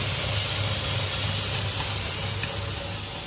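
Squid and fried shallots stir-frying in a pan for squid noodle soup: a steady, close, hissing sizzle that continues without pause and without talking.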